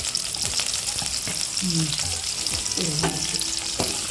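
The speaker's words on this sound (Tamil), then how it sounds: "வெங்காயம் கொஞ்சம் வதங்கிட்டோம். பூண்டையும் சேர்த்துக்கலாம், கருவேப்பிலையும் சேர்த்துக்கலாம்." Onions, green chillies, garlic and curry leaves sauté in a hot pan for an egg drop curry, a steady close sizzle broken by a few scraping stirs of the spoon, with no talking.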